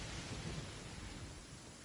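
Steady rainfall in Genshin Impact, a dense even hiss with a low rumbling undertone, constant throughout and fairly soft, with no voices over it.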